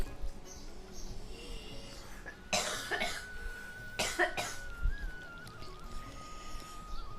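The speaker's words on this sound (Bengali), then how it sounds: "গলার ভিতরে কিরকম লাগে আমি বুঝতে পারতেছি না খুশখুশি কাশি হচ্ছে আমার" A dry, tickly cough comes in two short bursts a second or so apart, close and fairly clear over a quiet room background.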